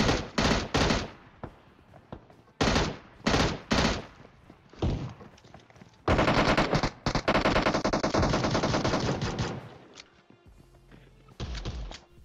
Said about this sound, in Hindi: आगे बंदे उतरे हैं और गोलियां चला रहे हैं